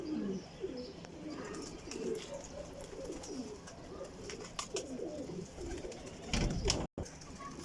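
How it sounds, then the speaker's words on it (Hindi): Sialkoti black-faced pigeons coo in a steady, repeating rolling rhythm, close and continuous with a few brief handling knocks near the end. "लो जी सियालकोटी काले मुँह वाला कबूतर।"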